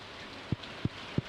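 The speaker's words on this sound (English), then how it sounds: "It's raining" Steady rain hiss from a video game speedrun, with three soft low thuds spaced evenly through it; no voices.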